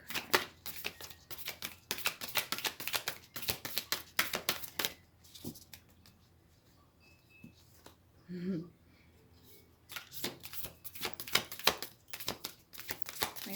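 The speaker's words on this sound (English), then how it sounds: "Shuffle them the other way." An oracle card deck riffles and slaps in close bursts of shuffling, pausing briefly midway while a voice speaks softly, then resuming with rapid card flicks.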